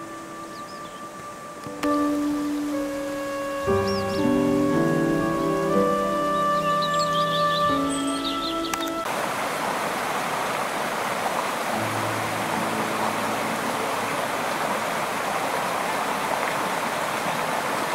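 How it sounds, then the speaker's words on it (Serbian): A river runs beside a walking path near Dimitrovgrad, on the way to Skok waterfall. Music plays at first, then a steady, full rushing of water carries on alone. "sa moje leve strane se nalazi reka"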